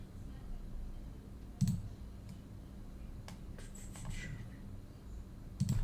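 A computer mouse clicks a few times, sharp and quiet, with long gaps between clicks over a low steady room hum.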